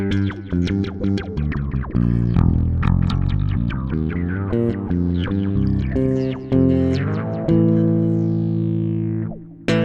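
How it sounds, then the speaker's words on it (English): Syntrx II synthesizer played with distortion, a string of gritty, buzzing notes and chords with sharp attacks that run continuously before a final descending sweep and cutoff. "A little distortion here."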